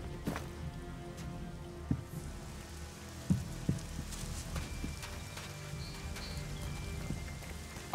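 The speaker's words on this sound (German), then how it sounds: "Es regnet zwar, aber ist egal." Steady rain patters on surfaces in the video game ELEX, a soft continuous wash with a few louder drops, and faint hoof-like clip-clop sounds scattered through it.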